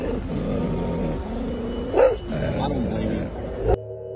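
A dog gives a couple of short, sharp barks a few seconds apart amid steady background noise and people talking nearby.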